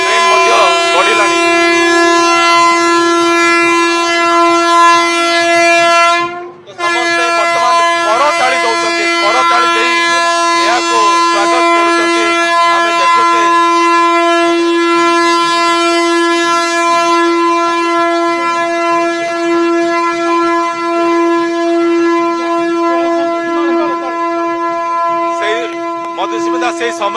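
Vande Bharat Express train in Odisha sounding a long, loud multi-tone horn that holds for nearly the entire stretch, broken by one brief gap early on, with crowd noise and voices beneath.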